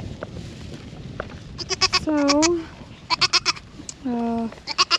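Young male goat bleating twice in long wavering calls among a farm chore setting, with a brief spoken word and other clicking, knocking sounds between calls.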